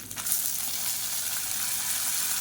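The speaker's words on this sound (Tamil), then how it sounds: "இது எல்லாத்தையும் நல்லா வதக்கிக்கலாம்." Chana dal, garlic, ginger and dried red chillies sauté in a pan for a cholesterol-friendly dosa batter, giving a steady, close hissing sizzle that runs evenly without a break.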